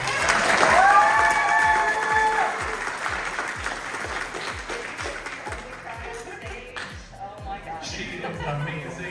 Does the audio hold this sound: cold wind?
no